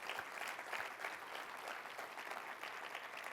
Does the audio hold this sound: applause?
yes